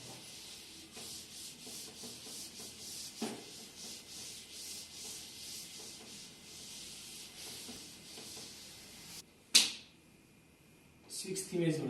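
A teacher rubs a board clean with repeated scrubbing strokes, a soft rhythmic rasp running under his spoken explanation, followed by a sharp knock and a louder burst of rubbing at the end.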